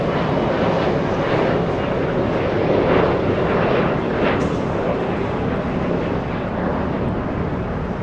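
A United airliner arriving from Tokyo Narita taxis along a taxiway at LAX, its engines giving a loud, steady broadband roar that holds evenly throughout.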